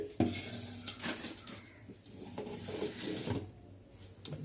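Dishes and utensils clatter and clink close by in a kitchen as rice is packed into a container, with sharp metallic knocks scattered among softer scraping and shuffling of pots.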